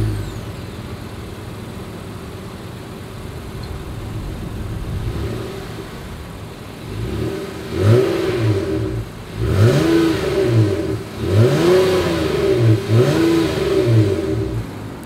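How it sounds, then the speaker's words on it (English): A 2021 Honda Odyssey minivan engine revs several times through its exhaust, rising and falling in repeated surges after a steady idle, loud and close. "As always, here is that exhaust clip."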